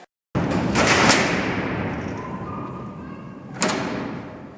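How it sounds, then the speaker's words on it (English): A heavy steel cell door at Alcatraz prison slams shut with a loud metallic crash that rings and echoes through the cellblock, then a second clank hits partway through the fading reverberation. "George Lucas took the sound bite from Alcatraz's slammer and used it in a lot of his movies"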